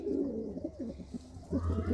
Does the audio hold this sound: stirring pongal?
no